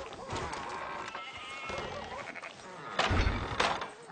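Sheep bleating during herding in the Western video game Red Dead Redemption 2, several loud, close bleats overlapping with game ambience and some speech, with a couple of sharp knocks near the end.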